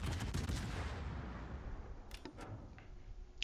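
Naval guns fire at an enemy Kerfurst battleship in a warship battle game, with a rolling boom that fades into sharp, separate cracks of further shots.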